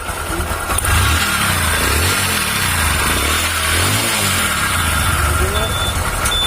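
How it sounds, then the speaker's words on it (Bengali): Motorbike engine running rough with water in its engine oil, a steady loud low rumble with uneven pulsing throughout, continuous and close. "তো ইঞ্জিনের সাউন্ড কিন্তু খারাপ হয়ে গেছে এই মোবিলের মধ্যে পানি যাওয়ার কারণে।"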